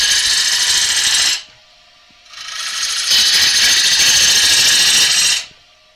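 A bowl gouge with a 55 degree bevel cuts wood on a spinning lathe, shaping a bowl in two loud, steady hissing passes close up, split by a brief quiet pause.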